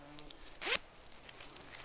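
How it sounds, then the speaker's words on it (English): A zipper runs once along a pocket of brown camo hunting clothing with elastic cuffs, a quick bright rasp lasting under a second at close range, followed by quiet room tone. "They've got nice pockets with a good zipper"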